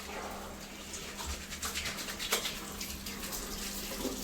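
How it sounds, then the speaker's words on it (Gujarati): Tap water runs steadily into a sink while hands are washed, a continuous splashing hiss with a few brief clatters, close by. "ચલો ગાઈસ હાથ ધોઈ કાઢો."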